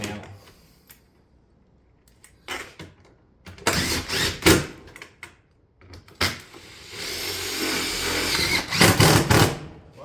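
Power driver setting fasteners through the top of Pine Crest shake roofing panels, a few brief whirs followed by longer buzzing runs, close by with quiet gaps between them.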